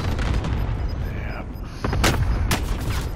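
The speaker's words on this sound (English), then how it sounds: "Oh, I'm getting shot up." Video game gunfire strikes the player: sharp cracking shots and impacts, two of them loud and close near the end, over a constant rumble of in-game noise, with faint voices in the background.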